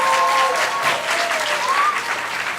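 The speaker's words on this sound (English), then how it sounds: "So can you give our broadcasting one more round of applause" Studio audience applauding the broadcasting team at a morning news show, a steady, dense wash of clapping that stays loud and close for the whole stretch, with faint tonal squeaks riding over it.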